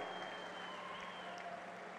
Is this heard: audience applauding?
yes